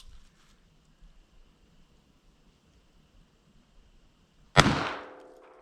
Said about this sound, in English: We're just going to take one pop shot here.